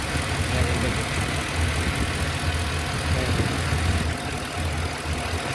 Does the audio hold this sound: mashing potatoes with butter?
no